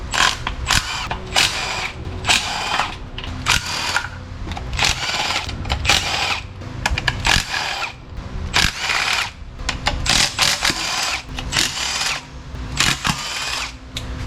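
Whirring power-tool bursts while removing 10mm bolts from a factory 5.3 LS truck oil pan, coming in repeated short runs of high-pitched spinning with brief pauses, close by and fairly loud.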